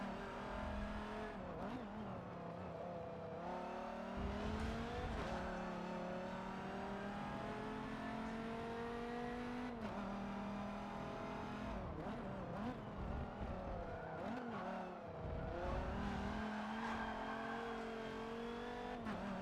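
A Corvette drives hard around a track, its engine roaring steadily and rising and falling with each rev, while the tires squeal and slide through the corners, loud and close throughout.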